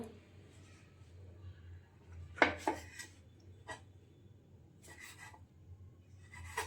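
A knife scrapes and saws through the crusts of bread slices in a home kitchen, in a few short, quiet rasping strokes with pauses between them.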